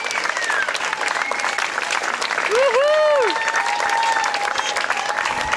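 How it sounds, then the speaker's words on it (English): Sustained applause from a street crowd in Bratislava after performers finish a Sweet Child of Mine rendition, steady and dense throughout, with a brief rising-and-falling whistle-like tone in the middle and some voices mixed in. "That applause keeps going."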